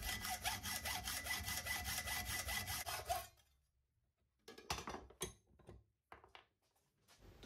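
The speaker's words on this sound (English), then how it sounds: "I then cut the shaft down to length in the vise using my hacksaw." A hacksaw cuts a Honda 50 gear shaft held in a vise, with quick steady rasping back-and-forth strokes that stop abruptly, followed by a few scattered scrapes and knocks.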